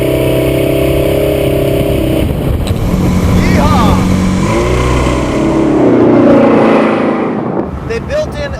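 A 355 Chevy small block circle track engine with dual Webers in a 1932 Ford hi-boy hot rod, revving loudly and close by, rising and falling through several throttle blips with rough clatter underneath.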